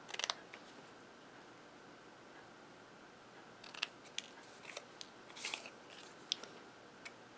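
Paper snipped with scissors to cut a fishtail end on a stamped card strip, faint close crisp snips in irregular clusters over quiet room hiss.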